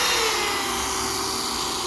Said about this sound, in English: You just let the sandpaper do the work.